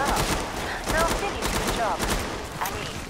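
Killing Floor 2 gunfire rattles out in rapid, loud volleys of close shots, with game sound effects and a player's voice mixed in among them.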